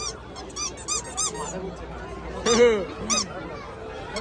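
Ducks give a handful of loud, nasal honking quacks in short bursts, nearby amid background chatter and people talking.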